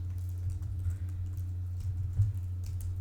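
Quick, light tapping of computer keyboard keys while writing Roblox Lua code, soft clicks in an irregular patter over a steady low electrical hum.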